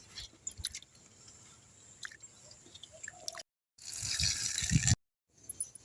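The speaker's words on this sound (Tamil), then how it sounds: "பருப்பு அலசிக்கலாம்." Lentils being rinsed in water for village-style sambar make a brief burst of sloshing and swishing, nearby and fairly loud, between quieter wet handling sounds.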